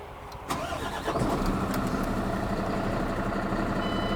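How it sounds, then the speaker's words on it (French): A truck engine is started during a pre-drive check: a brief starter crank catches around half a second in, then settles into a steady, close diesel idle. "Je commence par le démarrage du moteur."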